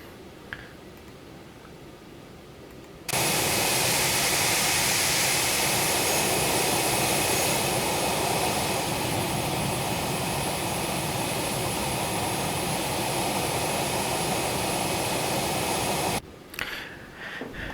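Steady broadband jet roar of an Embraer Phenom 300 cruising at 6,000 feet in X-Plane 11, flying from Springfield-Branson to St. Louis. The roar starts abruptly, holds loud and even for about thirteen seconds, then cuts off, with quieter cabin hum before and after.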